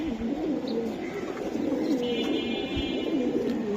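Pigeons coo in a low, rolling, continuous murmur close by, with faint chirps overhead, at a seller's loft of fancy breeds such as silver Giribaz pigeons.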